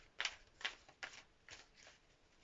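Tarot cards being shuffled close by, five quiet crisp riffles coming at a steady rhythm in an otherwise silent room.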